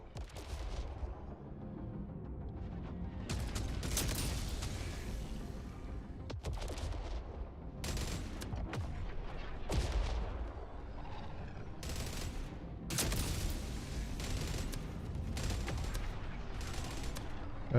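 Gunfire engaging a ship in the video game Jump Ship, repeated bursts of heavy shots and booming impacts spread across the span, coming in irregular clusters with short gaps, moderately loud and without speech.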